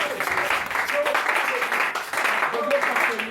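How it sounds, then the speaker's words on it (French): A church congregation claps and cheers loudly during a French-language service, dense steady applause with shouted voices and whoops mixed throughout. "Est-ce qu'on peut acclamer très fort?"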